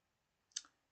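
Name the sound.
finger tapping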